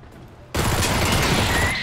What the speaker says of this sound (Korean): 총소리 난 것 같은데 이쪽에서?